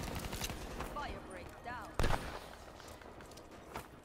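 Gunfire from a weapon in the shooter game Black Ops 3: a steady wash of distant shots and battle noise with one sharp, loud close shot near the middle, and brief chirping effects above.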